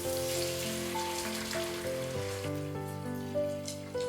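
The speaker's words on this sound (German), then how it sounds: "Aufkochen lassen und 3 Minuten weiter kochen." Water bubbling and hissing in a pan, a dense steady crackle like rain, with music playing softly underneath.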